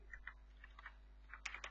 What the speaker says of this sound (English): so I'm just typing again the same thing